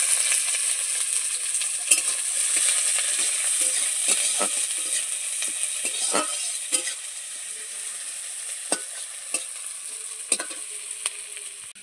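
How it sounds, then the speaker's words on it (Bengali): Onions frying in hot oil in a wok, a steady close sizzle with scattered crackles and spatters, occasional stirring clicks, continuous throughout with no talk. "কড়াইতে দিয়ে দিচ্ছি পেঁয়াজ।"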